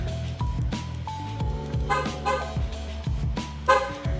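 A car is locked with a short horn toot, heard over steady background music with several tonal notes and a louder chirp near the end, outdoors beside parked cars.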